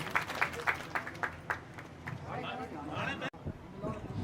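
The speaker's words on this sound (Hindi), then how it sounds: "सरपंच के लिए ताली बजाकर स्वागत करें।" Rhythmic clapping welcomes a village sarpanch at a Meghwal community bhamashah honour ceremony in Chanoud, with crisp claps strongest early on and a voice talking over the crowd noise.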